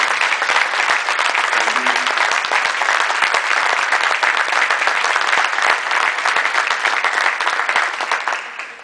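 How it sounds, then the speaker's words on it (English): Guests at an Athena Award luncheon give the award recipients a sustained round of applause. The thick, even clapping stays loud for nearly nine seconds before tapering off at the very end. "How about a nice round of applause?"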